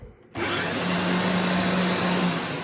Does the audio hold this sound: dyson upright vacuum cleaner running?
yes